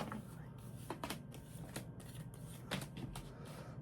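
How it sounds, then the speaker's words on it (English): A deck of tarot cards is shuffled in a series of quick, crisp riffles and taps, close and fairly quiet, with no voices over it. "One more shuffle."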